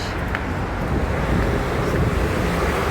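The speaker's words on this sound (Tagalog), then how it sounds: "Ang sarap na hangin" Strong, steady wind rushing and buffeting the microphone on a bridge at night in Muscat, Oman, with a low roar underneath throughout.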